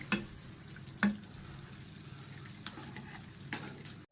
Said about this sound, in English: let's put it in the pan. Okay, stir everything.